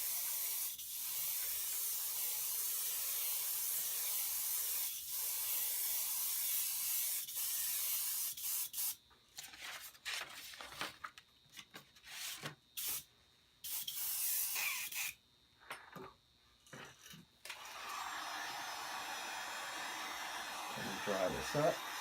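Black spray paint hisses from an aerosol can over a layered skull stencil in long steady bursts, then in shorter broken spurts with gaps, before a softer rushing tail; close and loud, no one speaking.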